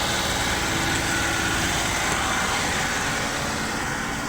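A Suzuki Multicab with an F6a engine, running after a fuel pump replacement, gives a steady, even, moderately loud hum throughout, without rises or dips, and no one talks.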